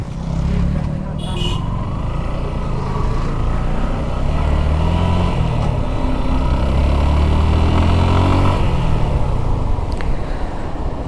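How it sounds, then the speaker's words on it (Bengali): A Suzuki Gixxer SF FI ABS motorcycle, freshly serviced with a new chain and sprocket set, runs with a steady, loud engine drone that climbs in pitch as it revs, close by with no talking. "ইঞ্জিনের সাউন্ডও এখন একটু অন্যরকম হইতেছে"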